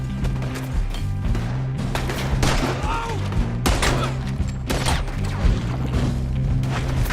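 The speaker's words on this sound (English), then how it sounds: "They're shooting right at us!" Rapid gunfire in the video game Red Dead Redemption 2 during a shootout, dense bursts of shots and impacts over a droning score, loud and continuous.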